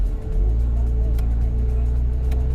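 A new Porsche 992 GT3 pulls away from rest, its engine giving a steady close, low drone inside the cabin, with no sharp revving.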